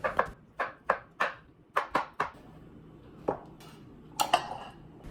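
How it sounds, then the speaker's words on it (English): A knife slicing mushrooms on a cutting board, a quick run of crisp, evenly spaced knocks, then a pause and a few scattered strikes, close and clear with no talk. "Then we'll slice up the mushrooms. These won't dissolve or anything, so cut as thin as you want."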